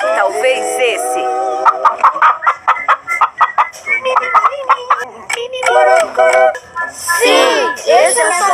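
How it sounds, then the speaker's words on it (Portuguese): A chicken clucks and squawks in loud, close, choppy bursts that speed up and then break into drawn-out calls, set in a children's animal-sound game. "Esse é o som da galinha."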